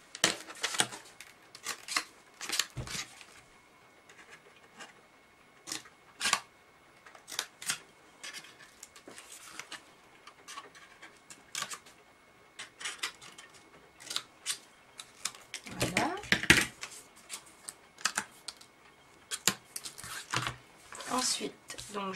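Album board for a Bind-it-all Paris album is cut at a bevel with a blade, giving scattered crisp clicks and scraping strokes in uneven bursts while someone talks nearby.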